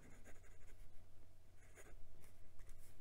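A Kaigelu fountain pen fitted with a stock medium steel nib writes on paper, giving close, quiet scratchy strokes in short repeated bursts with no talk.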